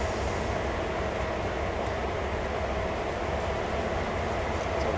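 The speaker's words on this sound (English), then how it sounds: "We got one more locomotive that we have to actually move." A CSX heavy-haul locomotive in Train Sim World rumbles along with a steady, dense rolling roar and rail noise, continuous and fairly loud, with no talking.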